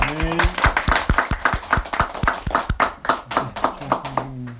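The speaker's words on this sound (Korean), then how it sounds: "우리 윤재는 팀장님한테 박수 한번 부탁드립니다" A small church gathering claps for a team leader, producing distinct, somewhat uneven hand claps in a loose rhythm, with a voice speaking faintly underneath.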